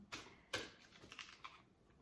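Soft papery riffling of oracle cards being shuffled, a few quick flicks and taps close by, fairly quiet with no talking.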